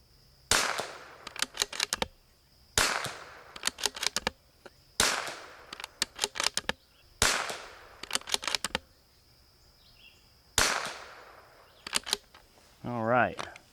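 Bergara B14R rifle firing 10X ammunition, several loud sharp shots at regular intervals, each followed by a short crackling echo, with a brief tonal burst at the very end.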